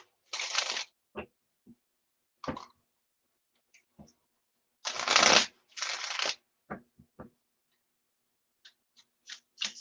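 A Tarot of the Sweet Twilight card deck is shuffled close by in several crisp riffling bursts, with quiet gaps and small taps and clicks between them and no talking.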